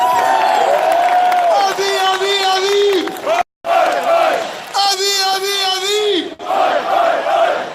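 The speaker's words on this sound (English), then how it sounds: "Big round of applause for Avi!" Rally crowd cheering and chanting loudly, massed voices shouting a name in rising waves, with clapping mixed beneath and a brief cut of silence midway.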